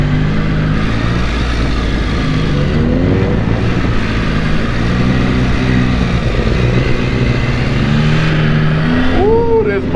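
A 2025 Yamaha YZF-R9 sport motorcycle accelerates hard from low RPM, its engine note rising loud and continuous from close range, with rev changes and a gear shift near the end.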